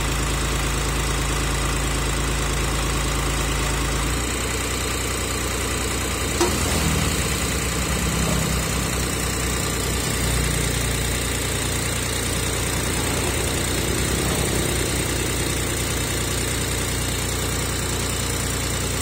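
A tractor converted into a bulldozer for ridging and pressing crop rows in Long Khanh, Dong Nai, runs with a steady low diesel drone and idling rumble throughout, a slight shift in tone partway through, no talk.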